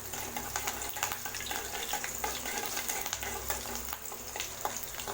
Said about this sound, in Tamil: பாருங்கள், பச்சை மிளகா நல்லா பொரிஞ்சிருச்சு